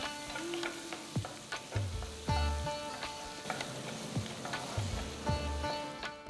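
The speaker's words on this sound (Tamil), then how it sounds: "வெங்காயம் நல்ல பொன்னிறமாக வர வரைக்கும் வதக்குங்க" Onions sizzle and fry in a pan, with a soft steady crackle and occasional scrapes and clinks of a spoon stirring.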